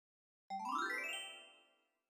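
A small bell gives a single bright jingling ring that rises quickly and then fades out over about a second and a half, clear and alone against silence.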